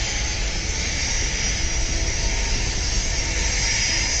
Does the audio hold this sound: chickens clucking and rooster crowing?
no